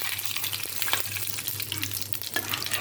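Cumin seeds and dried chillies sizzle in hot oil, a steady close crackling hiss over a low hum, with no voices.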